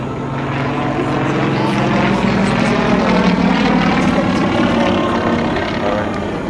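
A Yak propeller plane flies past at the 2008 airshow at La Ferté-Alais, its loud, steady engine drone and propeller buzz holding strong throughout, with a faint voice now and then.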